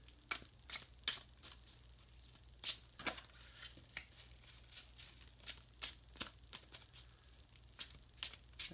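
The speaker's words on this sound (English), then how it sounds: "These decks are a little hard to shuffle when they're brand new like this." Quiet riffling and snapping of stiff, brand-new tarot cards being shuffled, in a series of short crisp bursts with no talking.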